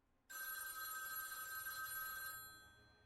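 A telephone rings with a bright, sustained electronic trill that starts abruptly after a short quiet moment, holds for about two seconds and then fades away, alone and fairly close.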